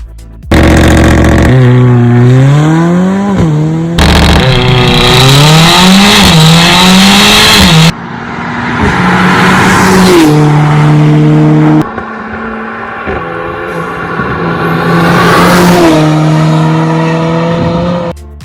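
Mercedes-AMG A45 4MATIC with a 7-speed DCT in a Need for Speed game, its engine revving hard through repeated rising gear pulls with shift breaks between them, loud and close, with tire squeal and no talk.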